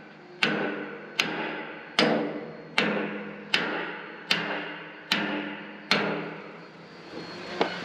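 Eight heavy metallic hammer strikes on steel hull wedges ring out at a steady pace, each a sharp clang with a ringing decay, close and loud.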